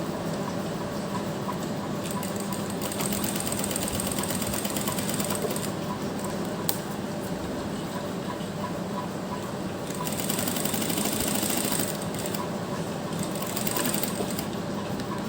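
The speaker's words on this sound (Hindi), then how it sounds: "देखिए, इस तरह से हम इस पर सिलाई लगा देंगे।" A sewing machine stitching lace onto fabric for a neckline and sleeve design, running in a fast, steady mechanical chatter for the whole stretch, close and loud with no talking.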